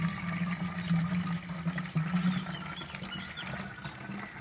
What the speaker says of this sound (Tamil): தண்ணி ஊற்றணும்.